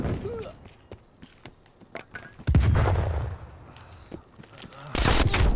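AK-47 gunfire in Call of Duty hardcore kill confirmed: scattered sharp shots and short bursts pop through the game mix, with a heavier blast midway and a loud final volley close at hand.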